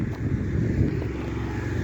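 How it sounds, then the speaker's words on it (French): A car approaching along an outdoor street, its steady low engine rumble and road noise filling the short stretch, close and fairly loud with some wind buffeting. "il y a une voiture qui est en train d'arriver"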